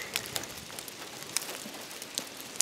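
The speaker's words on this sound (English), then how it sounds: "We got a sunshiny, clear blue sky, and it's hailing." Hail falling from a clear, sunny blue sky in Alabama, heard as sparse, faint ticks and patters scattered irregularly across a quiet background.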